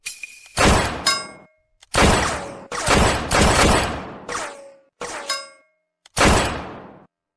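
A rapid gunfire sound effect: roughly seven loud, sharp bursts with bright metallic ringing tails, arriving in an uneven rhythm with brief silences between them and no speech.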